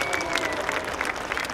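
Steady applause from a crowd at a charreada festival, honoring the riders of an escaramuza team, dense clapping continuous and fairly near throughout, with a few faint voices mixed in.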